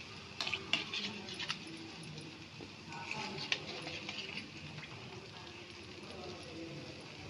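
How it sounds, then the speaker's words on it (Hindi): Sweet gulgula fritters sizzle in oil in a kadhai while being slowly turned over, a steady frying hiss punctuated by metallic scrapes and clinks near the start, with a voice speaking faintly in the background. "अब इसको हम पलट देते हैं, ऐसे धीरे धीरे पलट देंगे।"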